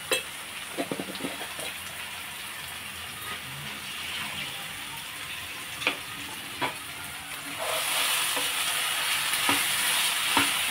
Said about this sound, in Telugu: ఉప్పు, పసుపు కలిసే విధంగా కలుపుకోవాలి